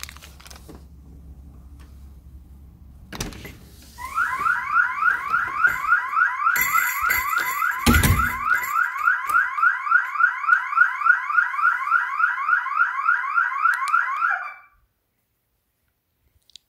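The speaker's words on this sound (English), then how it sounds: "if I open the door right away, the alarm is gonna go off instantly" Siren of a KERUI wireless PIR alarm system going off indoors, a loud rapid warbling wail sustained for about ten seconds before cutting off abruptly, preceded by a brief beep and handling clatter.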